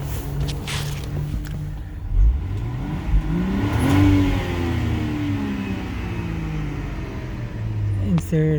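A 2021 Range Rover Sport HSE engine revs up and settles several times, its pitch rising and falling with a throaty exhaust rumble, close by, with a voice talking at moments.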